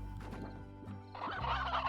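Chickens cluck in the video game Slime Rancher in short, close squawks and clucks, followed by a louder, busier burst of game sounds.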